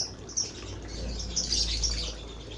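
Faint high chirps from many birds at a bird farm, lovebirds and white-rumped shamas, blend into a constant twittering wash over low background hum.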